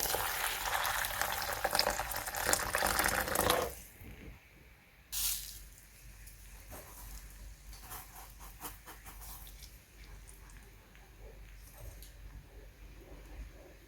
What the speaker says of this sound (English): And I'm adding water as well.